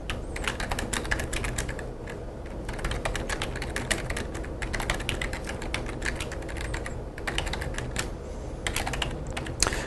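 Continuous brisk typing on a computer keyboard, quick uneven key clicks and taps close by with no talking.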